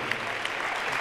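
A high school girls basketball crowd in Chaska applauds a player being recognized, a steady wash of clapping from many hands filling the gym at moderate level.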